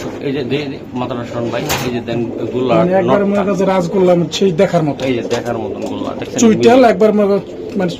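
Domestic pigeons, including racer and kaldom breeds offered for sale, coo repeatedly close by, while someone talks loudly over them throughout.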